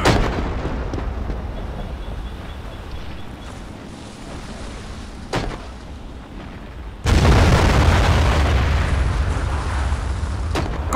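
Artillery fire in the World War II strategy game Men of War Assault Squad, set in the Crimea in 1941: a sharp distant boom, then a heavy close blast that rolls into sustained rumbling explosion noise.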